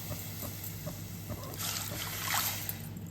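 Water pours over soaked toor dal in a pan for a Kerala erisseri with yellow pumpkin. It starts as a soft trickle, then swells into a brighter splashing rush near the end, close by, with no talk.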